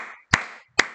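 Two sharp, close hand claps about half a second apart ring out in a fantasy football show studio. Short silent gaps separate them.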